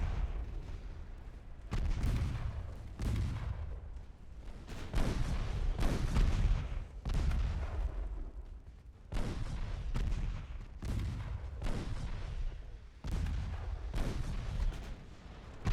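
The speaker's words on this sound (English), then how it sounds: "I want all the big guns shooting that one" Big warship guns fire repeatedly in Ultimate Admiral Dreadnoughts, each deep booming salvo followed by a rumbling decay, spaced every second or two across a long naval engagement.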